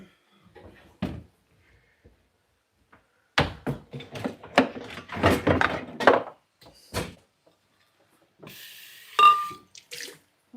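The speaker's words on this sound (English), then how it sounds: "And now we're just going to start putting in water." Water splashes and gurgles as it is poured into a pot for split pea soup, a steady irregular pouring with clattering near the microphone, then a brief faint rush at the end.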